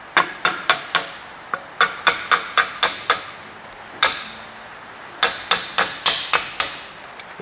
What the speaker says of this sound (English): I think it's like a little jeweler's hammer, but it's good for not wrecking things